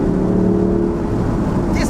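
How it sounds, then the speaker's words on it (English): Loud, steady engine drone from a 2026 Dodge Charger Six Pack Scat Pack six-cylinder, heard from the cabin with the window down while cruising, a constant low hum with some wind noise. "as far as 6 cylinders go, it sounds really good"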